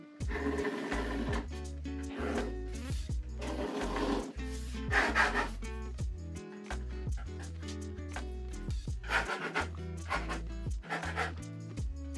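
A pencil sketching outline lines on paper for a fashion croquis drawing, with close, scratchy rubbing strokes coming in uneven bursts of varying length and no voices.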